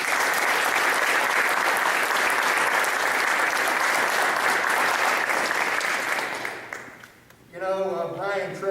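Sustained, loud audience applause at a high school athletic signing event honoring five student athletes, steady clapping for several seconds before fading out, followed by a voice speaking.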